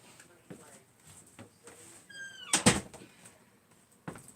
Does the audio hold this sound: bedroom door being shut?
yes